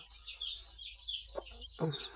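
A native village hen clucks softly beside her ten newly hatched chicks, whose faint high peeping runs throughout; a few short clucks come near the end, close and quiet.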